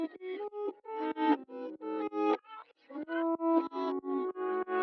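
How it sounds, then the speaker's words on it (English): Reversed guitar sample shaped with EQ and sidechaining, swelling in rhythmic pumping bursts that rise and cut off sharply, with no voices. "So this is what the guitar part sounds like."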